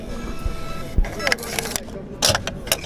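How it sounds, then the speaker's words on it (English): A city bus in Salzburg pulls in to a bus stop, its engine rumble and road noise mixed with a few sharp clatters and hisses, while voices murmur nearby. "So I need to try and hurry because the bus is coming."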